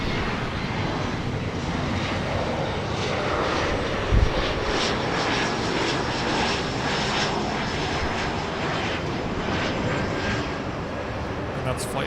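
Airliner landing at Los Angeles International Airport, a steady, loud engine roar that fills the whole stretch with little change, heard from a spotting position with a voice talking faintly underneath.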